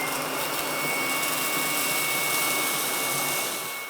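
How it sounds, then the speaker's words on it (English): A Ryobi stick vacuum cleaner runs continuously at close range, a loud, steady motor whine with broadband airflow rush and no speech. "so let's get vacuuming"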